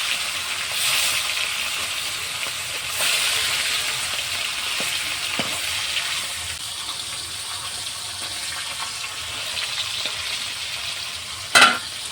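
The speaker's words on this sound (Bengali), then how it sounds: "কড়াইটা গরম হয়ে গেছে, আমি সরিষার তেল দিয়ে রান্নাটা করব। তেল দিয়ে দিয়েছি।" Mustard oil heating and frying in a hot wok, with a steady broadband sizzle and occasional stirring scrapes, moderately loud and close, ending with a sharp brief clatter; no talk.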